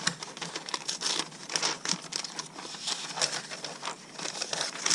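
Wrapping paper crinkles, rustles and tears as a wrapped stationery gift box with a sticker is opened, in close, irregular bursts of crumpling without any talk.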